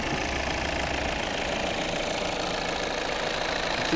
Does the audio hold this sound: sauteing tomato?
no